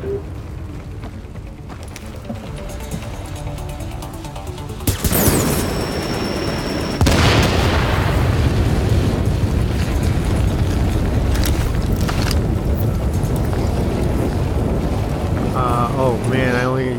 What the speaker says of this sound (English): Look out, tank's gonna blow.